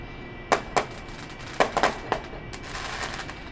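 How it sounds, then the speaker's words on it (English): Fireworks pop and bang right outside a window on Halloween night, a handful of sharp, irregular cracks spaced over a few seconds, with no talking. "that's actually someone out there doing some fireworks"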